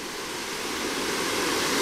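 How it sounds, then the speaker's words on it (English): A waterfall spills off a reservoir and heads downstream, giving a steady, broad rushing roar that stays loud and even throughout. "The falls right here coming off this reservoir that heads downstream."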